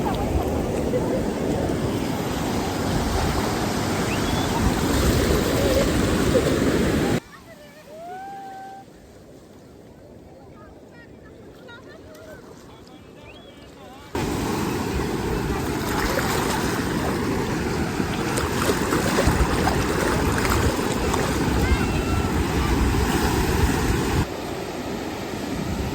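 Large ocean waves surging and crashing at Puri beach, a loud, continuous broadband roar that drops away briefly in the middle before returning at full strength.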